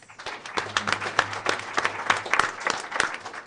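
An audience at a school board of education meeting claps for a state award winner. The applause is steady and moderately loud, with dense overlapping claps that go on throughout.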